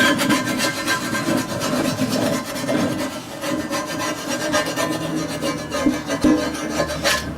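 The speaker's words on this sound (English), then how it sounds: "it lets us kind of smoothly scrape off any imperfections" A small scraper rasps steadily across a cast iron pan, giving a close, loud, continuous scratching with quick repeated strokes and no talk.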